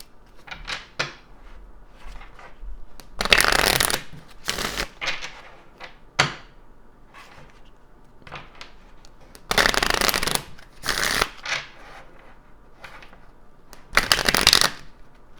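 Kipper oracle cards being shuffled at a table, with several loud bursts of riffling and flicking separated by softer handling and faint rustles, close and with no talking.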